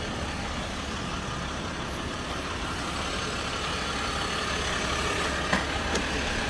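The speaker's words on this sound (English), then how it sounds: "You can see the exhaust noise is almost nothing back here." A RAM 1500 Longhorn crew cab 4x4 diesel pickup runs with a soft, steady exhaust rumble under a broad, even hiss. It stays constant throughout with a couple of faint ticks near the end and no voices.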